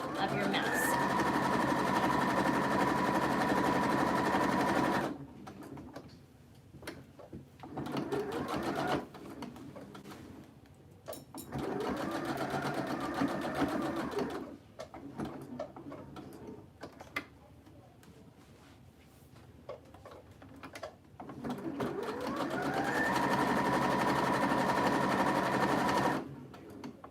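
A sewing machine stitching a fabric face mask runs in several loud, steady whirring bursts of a few seconds each, separated by pauses, while someone talks over and between them.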